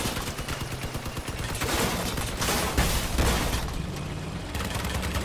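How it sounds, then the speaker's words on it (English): A vehicle-mounted light machine gun rattles in the Crossout vehicle shooter, dense rapid bursts of fire mixed with heavier booms, loud and continuous through the moment. "That light machine gun, though,"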